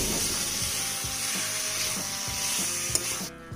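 Marinated mutton pieces sizzle and fry with onions in a pan, a steady close hiss with soft stirring scrapes throughout, easing off near the end.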